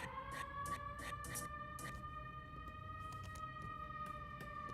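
An emergency vehicle siren holds a long, slowly shifting wail with strong harmonic tones, steady and sustained over faint New York street noise.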